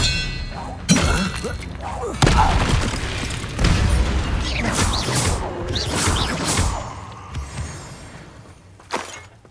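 Expelliarmus spell effect in Hogwarts Legacy combat: a few loud magical booms and shattering crashes, each followed by a ringing, fading tail.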